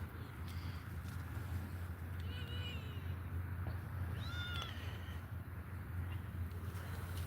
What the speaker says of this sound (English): What are you doing, big fuzzy kitty?